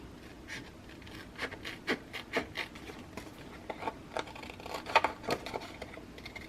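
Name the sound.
scissors trimming paper pocket page in half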